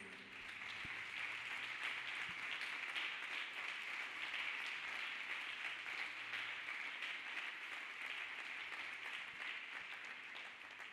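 A church congregation claps hands in praise, a faint but sustained, even wash of many hands heard from a distance with no one speaking over it.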